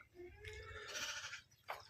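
Goats bleat on a goat farm, several wavering calls in a row with a sharp bleat near the end, fairly close over faint outdoor background.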